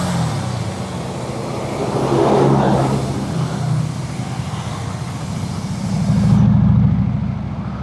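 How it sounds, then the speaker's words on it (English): A large bus passing in city traffic in Colombia, heard from a motorcycle: a deep engine drone swells up close and fades, with road rush, a brief hiss and surging motor noise later. "Oh, big bus."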